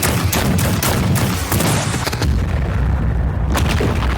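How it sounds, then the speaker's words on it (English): Gunfire in an animated show: dense, loud bursts of rapid shots and booming blasts crowd the whole span, barely easing toward the end, with no talk over them. "Taro is spared when Garo acts alone and diverts all of the gunfire"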